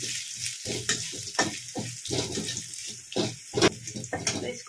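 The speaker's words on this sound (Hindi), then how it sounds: "अदरक खीरा और जो हरी मिर्ची उसको अच्छे से भून लेना है" Ginger, cucumber and green chili frying in a pan, heard as a close, bright, continuous sizzle with repeated bursts of crackling and a few stirring sounds.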